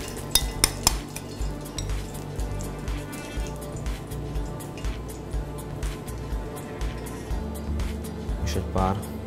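Potatoes and tomatoes served onto a plate with cutlery, repeated metallic clinks and scrapes of utensils against dishes with soft food thuds, close, over a low background hum.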